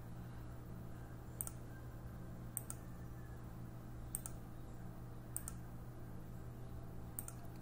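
A computer mouse clicks while a line tool draws, used to design a birdhouse: five sharp, isolated clicks spaced about a second or more apart, quiet and close, over a steady low hum.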